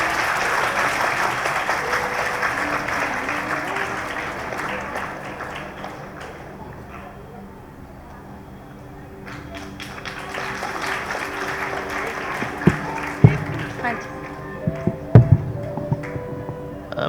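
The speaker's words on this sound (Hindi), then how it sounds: "तालियों की गड़गड़ाहट कम क्यों हो गई बच्चों?" Children clapping loudly at an Independence Day cultural program at a girls' college, a dense roar of applause that dips, then swells again with some sharp individual claps and thumps near the end.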